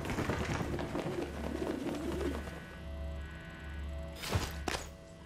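A pigeon cooing in a simulation test in the video game Prey, soft low coos under a steady ambient hum, followed by two brief sharp thumps near the end.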